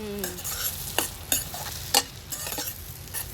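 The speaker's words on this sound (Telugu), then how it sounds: "గోల్డెన్ బ్రౌన్ కలర్ వచ్చే వరకు ఫ్రై చేసుకోవాలి." Eggs fry in hot oil for an egg masala gravy curry, giving a steady sizzling crackle with a few louder pops and stirring scrapes, close and with no voices.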